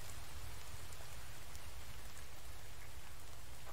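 Steady rain falls in the survival video game The Infected, a dense, even hiss of drops on surfaces that holds at a constant level throughout, with no voices over it.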